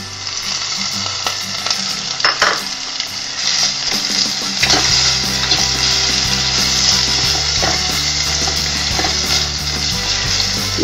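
Minced pork sizzles and fries steadily in a pan, with a spatula scraping and stirring through it, loud and close and continuous with no talk.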